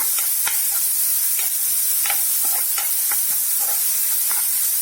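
Chinese potato (koorkka) sautéing in a pan, a steady close sizzle with repeated scraping stirs of a spatula throughout, no voices.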